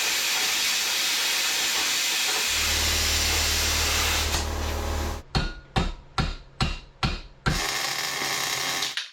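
Duplicolor flat black aerosol paint sprayed in an indoor paint booth: a long steady hiss, then a series of short rhythmic spray bursts, close and fairly loud.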